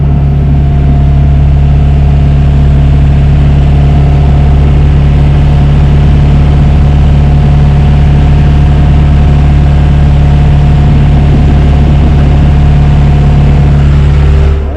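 A large boat engine on a small fishing boat runs loud and close, a steady low rumbling idle with a constant hum and no breaks.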